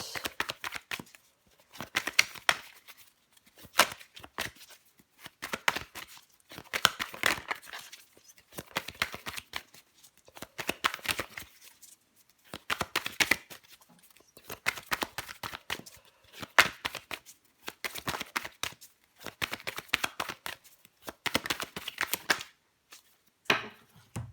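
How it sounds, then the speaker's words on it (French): Tarot cards turned over one by one and laid out on a table make soft, close slaps and flicks in repeated bursts, separated by short quiet gaps. "Allez, on va recouvrir des cartes."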